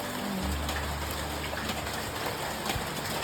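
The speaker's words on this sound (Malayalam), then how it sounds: "നല്ല മഴ ഗൈസ്" Steady rain pattering on surfaces, a constant wash of drops with a low hum underneath and no talking.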